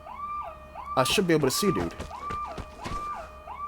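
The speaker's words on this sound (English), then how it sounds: "A car alarm right there in the center of town." A car alarm in the video game Vigor wails in a repeating rising-and-falling tone from the center of a town, cycling steadily throughout while someone talks over it.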